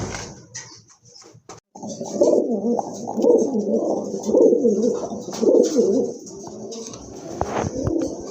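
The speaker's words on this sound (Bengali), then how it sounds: "খুবই সুন্দর দেখার মতো এক জোড়া কবুতর" A pair of large pigeons coo close by in a run of repeated soft, throaty rolling calls, loud and clear with no talking.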